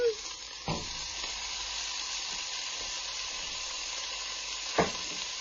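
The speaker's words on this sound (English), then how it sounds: "I am actually going to throw in my meat at this time" Meat sizzles and fries steadily in a hot pan while cooking for ramen, a dense continuous hiss with a few louder clanks from stirring, close and alone without talk.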